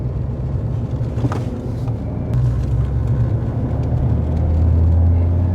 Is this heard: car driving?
yes